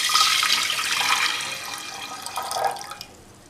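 Water poured into a cooking pot of mung beans with garlic and turmeric, a steady splashing pour lasting about three seconds before tapering off, close and fairly loud with no talking.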